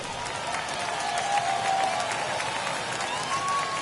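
Baseball crowd rising and applauding in a ballpark ahead of a full-count 3-2 pitch, a broad, steady wash of clapping and cheering at moderate loudness throughout, with no voice over it.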